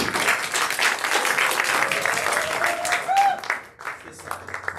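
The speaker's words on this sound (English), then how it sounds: "what does this level 0 applause sound like?" Audience clapping in a room, a dense patter of many hands that swells and then quickly tapers off, with voices talking over it.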